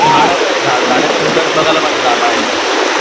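A rain-swollen river near Govil in Lanja, Ratnagiri, rushes past as a loud, constant broadband roar close by, with voices faintly audible beneath the flow.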